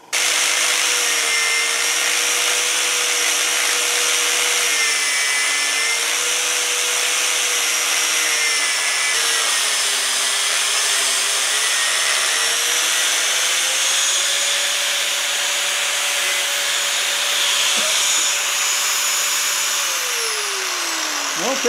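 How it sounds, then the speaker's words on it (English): An angle grinder makes a delicate cut along a marked line on a hatchet or chainsaw part during refurbishing, giving a steady, loud, high whine with shifting pitch that holds for the whole stretch, close and continuous with no talk. "this is going to be a delicate little piece of work for the angle grinder because I want to cut it right along there."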